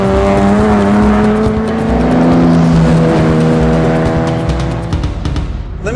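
A 1960s Nissan Skyline GT-R Hakosuka's engine revving hard, a loud close rising howl that climbs in pitch through the gears, then drops back with crackly tire and exhaust noise, no voices.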